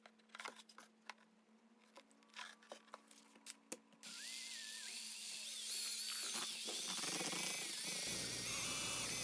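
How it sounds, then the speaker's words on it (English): Scraping and clunking sounds give way to a steady, high-pitched whirring power drill with a paint stirrer that runs continuously while churning two-part resin in a container. "Mixing it up thoroughly using a drill and the paint stirrer"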